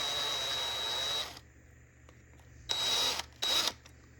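A small power drill bores into a Hot Wheels toy car. There is one longer high whirring burst, then a pause and two short bursts, close and clear over a faint low hum.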